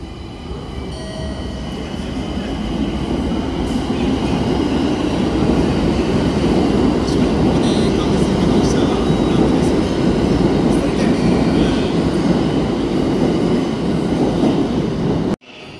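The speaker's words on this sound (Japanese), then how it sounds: "2番線に到着した電車は回送列車です。" Tokyo Metro Ginza Line train pulling into the new Shibuya station platform, a steady loud rumble and roar of the train with faint wheel clatter and squeal, close by and continuous until it cuts off at the end.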